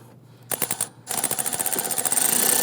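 A ratchet or impact tool tightening a bolt on the ignition coil of a 2011-2021 Jeep Grand Cherokee 3.6L V6, a short burst of rapid clicks, a pause, then a longer fast rattling run close up.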